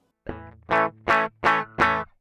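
An electric guitar runs through an auto reverb effects pedal, sounding as one plucked note followed by four evenly spaced, loud, swelling bursts with a buzzy, distorted tone and a short decay after each.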